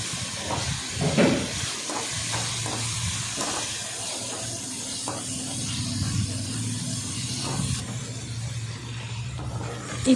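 Onion and tomato sauté with salt in a pan, giving a constant hissing sizzle near at hand with occasional scrapes and taps from stirring.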